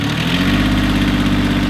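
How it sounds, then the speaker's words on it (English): A converted sailboat's engine runs on an inland waterway after a loud thunk, giving a steady, loud metallic whirring drone with a deep hum beneath it, continuous and close, with no one talking. "we heard a big thunk, followed by a strange metallic whirring sound from the engine"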